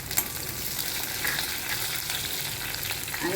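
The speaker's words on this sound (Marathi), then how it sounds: "जिरं तडतडली की मिरची टाकू" Green chillies frying in hot oil with cumin seeds, a dense close sizzle and crackle with faint stirring, steady and uninterrupted, no voices.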